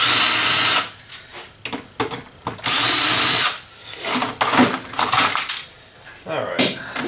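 Power drill whirs in loud bursts while removing screws from a scrap printer, interspersed with metallic clinks and rattles of parts being handled nearby.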